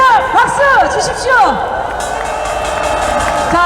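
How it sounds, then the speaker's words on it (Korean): Audience applause at an outdoor gathering, steady clapping from a crowd running under a loud announcer's voice, with people talking over it throughout. "우리 수고해주신 구목이 소장님께 다시 한번 박수 주십시오"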